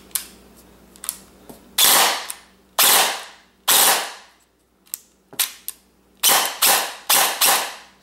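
Ares G36C airsoft gun fires in short bursts and single bangs, with sharp cracks and brief rattling volleys separated by quiet pauses and small mechanical clicks, close up.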